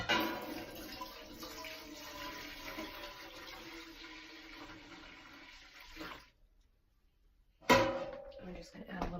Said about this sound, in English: I'm just going to add a little more water.